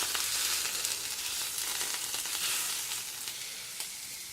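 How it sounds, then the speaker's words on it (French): Sausages cooking in a pan give off a continuous, loud, crackling sizzle with small pops throughout, close by and with no talking. "Donc là on attend quelques minutes, hein, on cuit bien les saucisses."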